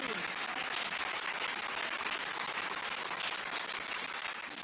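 Steady, dense crowd applause fills the Crucible snooker arena, continuous and full throughout with no break.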